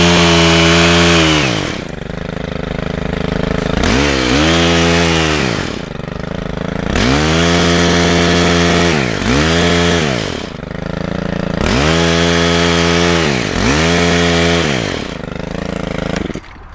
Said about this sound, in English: I have one that's got a hedge trimmer attached, and this makes it really easy.